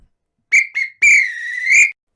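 A referee's whistle signals full time, blowing three times: two short blasts followed by a long, loud, sustained one.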